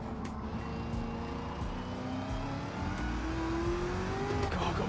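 A 755-horsepower race car in Gran Turismo 7 accelerating hard, engine note climbing through rapid upshifts with brief tire squeal, loud and close with no talk.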